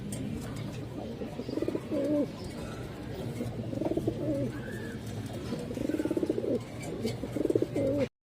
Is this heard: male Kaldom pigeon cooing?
yes